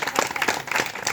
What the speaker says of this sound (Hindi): एक बार जगत जननी जगदम्बा के लिए जोरदार ताली बजाओ।